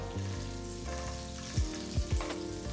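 Oil and small cubes of butter heat in a wide kadai, a low sizzle with a steady underlying hum and a few brief sliding scrapes near the end, no talking.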